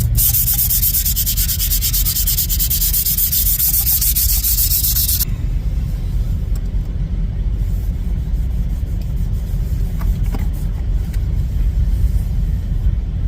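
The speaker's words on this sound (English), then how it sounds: "just do some finer sandpaper here" Hand sanding of wood with fine sandpaper, a loud continuous rubbing scratch, hissy for the first few seconds and then duller and rumbling, steady throughout with no talk.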